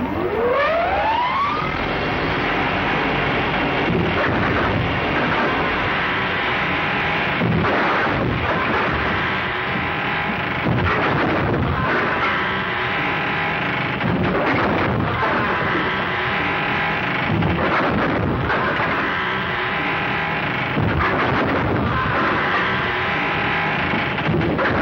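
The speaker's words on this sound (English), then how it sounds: "Firing at him from the window." Gunfire rings out from a window in a western movie, with repeated loud shots and echoing bangs at intervals over a noisy, busy background.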